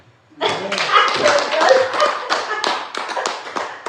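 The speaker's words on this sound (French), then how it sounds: "Vous pouvez m'applaudir." Congregation clapping at a church gathering, starting abruptly after a brief quiet moment and continuing as a loose, uneven patter of claps, with a few vocal sounds mixed in.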